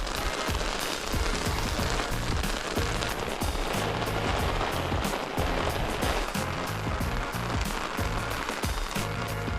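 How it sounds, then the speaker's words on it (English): Hail mixed with rain pelts down steadily around an outdoor fishing spot in October, a dense, constant patter and drumming that stays loud throughout with no voices. "it's hailing on us now"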